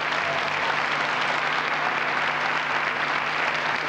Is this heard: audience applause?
yes